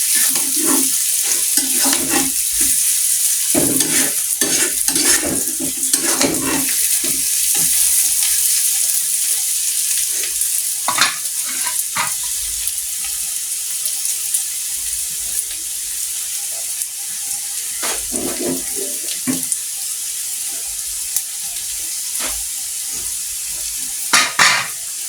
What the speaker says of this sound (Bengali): একটু পর পরে নেড়ে দিলে হবে